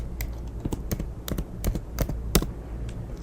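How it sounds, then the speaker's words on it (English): Computer keyboard typing in an ASMR style, heard as a quick, irregular series of close, crisp key clicks with no speech. "So you get some typing in ASMR too."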